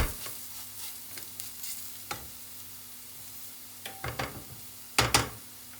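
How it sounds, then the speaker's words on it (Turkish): Carrots with spices stirred in a cooking pan, giving a low steady sizzle broken by a few scraping stirs and sharper clatters near the end, close by with no talking. "Baharatları da ekleyelim ve güzelce karıştıralım."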